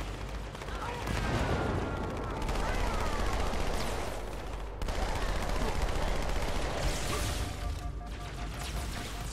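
Gunfire in the shooter video game Halo 2: Anniversary: sustained, loud automatic weapon fire with booming impacts that continues almost without a break and briefly drops out mid-way, with faint talk buried underneath.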